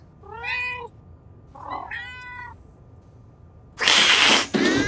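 A person imitates a cat, giving two drawn-out, pitched meows a second apart, followed by a sudden loud, harsh burst of noise near the end.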